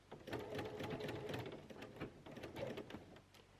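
A sewing machine backstitches piping onto fabric, its needle running in quick rhythmic bursts close by with short pauses as the stitching reverses, fairly quiet overall.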